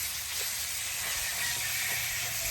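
Chorizo sizzles in a pan while it is stirred during outdoor cooking, giving a steady, fairly faint hiss that continues the whole time with no talk.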